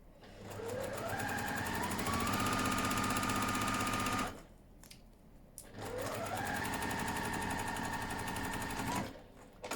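Sewing machine stitching foundation-pieced quilt fabric, two steady runs of rapid motor whirring that rise in pitch as they speed up, separated by a brief pause, close and fairly quiet with no talk.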